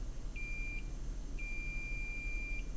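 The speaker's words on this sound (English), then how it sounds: "It's right on the border of where it would not beep." Continuity-mode beep from a multimeter probing the main VCC capacitor on a water-damaged iPhone: two steady high tones, the first short and the second longer, over a low background hum, with no talking.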